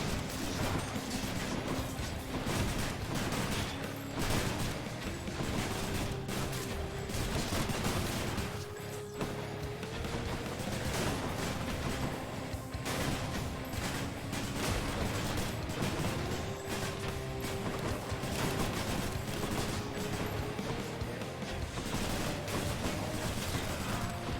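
Enemies firing guns in the action video game Hades: dense, rapid volleys of loud shots and crashes pile up continuously over a steady music score, with no voices.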